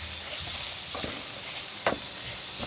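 Meat and spices stir-fried in a pan with tomato for a Bengali mangsho kosha, a steady close sizzle broken by a few soft scraping strokes.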